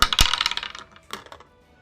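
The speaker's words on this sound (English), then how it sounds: "Collection of dice." A handful of tabletop game dice tumble and clatter across a table, a dense burst of hard clicks that scatter and settle, then a second smaller rattle of rolling dice, close and loud.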